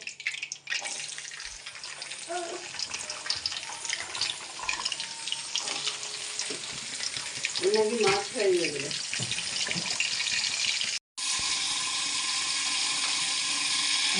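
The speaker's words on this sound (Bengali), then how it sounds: "আমি বরবটিটা ভেজে নেব।" Yardlong beans fry in a pan, producing a continuous hissing sizzle that grows louder partway through, with a voice briefly heard over it.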